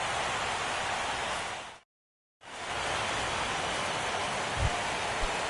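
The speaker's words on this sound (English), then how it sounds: "Rain continues to fall here in the 6th." Steady rain hiss fills a baseball video game on PS4 during the sixth inning, a dense, even wash of falling rain with one brief dropout in the middle and a couple of faint low thumps near the end.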